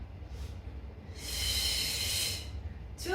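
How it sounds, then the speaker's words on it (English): Audible breathing during a runners' stretch flow: a faint short breath, then a long, loud exhale, and another breath starting at the end, each sharp and close. "You can follow my breath. 2 inhales, 2 exhales."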